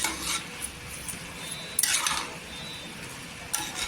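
A spoon stirs sugar into carrot halwa in a pan over low heat, making soft intermittent scraping strokes in a few short bursts against a quiet background, with no one talking.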